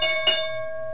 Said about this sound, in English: That was the closing bell for the New York Exchange.